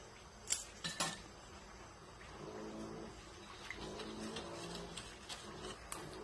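A utensil stirs kutsinta batter in a bowl just after lye water goes in, with a few sharp clinks near the start, then soft, faint scraping and tapping that carries on quietly.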